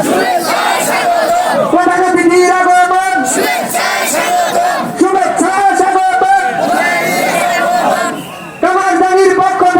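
A large crowd at a Bengali Islamic religious gathering roars a unified takbir chant in repeated loud, harmonic bursts, with brief dips between the shouted phrases.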